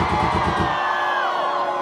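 A crowd at an LGBT pride parade in Santa Maria, Federal District, cheers and whoops loudly, a dense roar of many voices with a rising whistle-like shout near the end.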